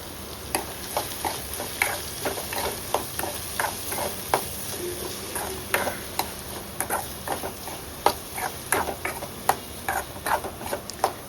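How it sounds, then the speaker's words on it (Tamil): A spoon stirs chili powder and salt into cut raw mango pickle in a pan. It gives a steady series of light clicking scrapes at a regular rhythm, close and fairly soft, over a faint sizzle. "போட்டு இதுவும் நல்லா எல்லாம் ஸ்ப்ரெட் ஆகிற மாதிரி நல்லா பரட்டி விட்டுக்கலாம்"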